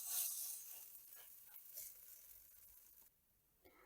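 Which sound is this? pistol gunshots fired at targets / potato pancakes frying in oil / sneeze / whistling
potato pancakes frying in oil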